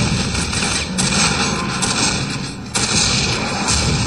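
Rocket launcher fire in Quake 4 gives loud, dense bursts of blasts and booms that fill the whole stretch, with short gaps between volleys and no voices.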